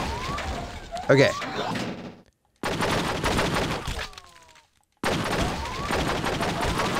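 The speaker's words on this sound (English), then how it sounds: "Fire the gun." Rapid bursts of gunfire from a police shooter in True Crime: Streets of LA, loud close shots in clusters separated by brief silences, with someone talking over parts of it.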